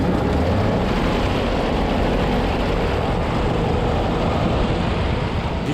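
A carbureted light aircraft engine running loud and close after a primed start, a steady broadband roar with heavy low rumble that holds constant throughout, no voices.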